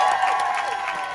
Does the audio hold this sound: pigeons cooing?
no